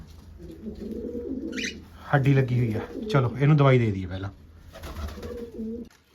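Soft, low pigeon cooing mixes with someone talking nearby while he handles a sick-looking pigeon, the coos coming in brief murmuring bursts between and beneath his speech.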